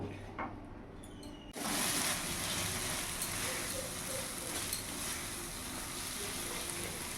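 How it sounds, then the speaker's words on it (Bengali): Spice paste frying in oil in a pan on a gas flame at medium heat for boal fish kalia, a steady close sizzle that starts suddenly after a quiet moment and keeps crackling evenly, with light stirring scrapes. "এবার মশলাটা আমি ভালো করে কষিয়ে নেব।"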